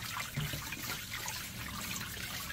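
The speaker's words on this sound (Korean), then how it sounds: "이렇게 찬물에 씻어서 건져 주셔가지고" Blanched spinach is rinsed under cold running water in a kitchen, giving a soft, steady trickling and splashing that carries through the whole moment at low volume, with no speech.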